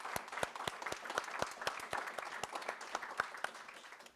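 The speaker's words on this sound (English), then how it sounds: "If you'll please join me in a round of applause for our school board members." Audience applause for school board members at a board meeting, a steady round of clapping with sharp individual claps throughout, moderately close and continuous for several seconds.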